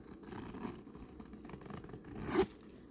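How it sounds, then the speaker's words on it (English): Zipper being pulled closed on a red Dooney & Bourke Plumes cosmetic case, a quiet continuous raspy zip ending in a short, louder final pull, close to the microphone. "Zipped on up"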